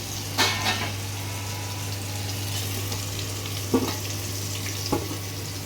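Steady crackling sizzle of potatoes frying in hot oil, with occasional clinks of a utensil against the pan.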